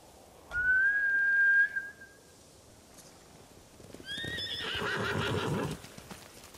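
Horses whinny in the video game Ghost of Tsushima: one long high neigh near the start, then a second, rougher whinny with hoofbeats about a second later, fairly close and with no speech.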